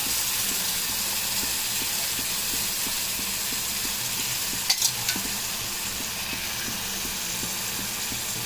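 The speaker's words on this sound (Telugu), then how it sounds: "ఇట్లా చింతపులుసు పోసుకోవాలి చింతపులుసు" Tamarind extract poured into a hot pan for temple-style pulihora rice, giving a continuous sizzling hiss of liquid hitting hot oil, steady and close, with a brief clatter midway.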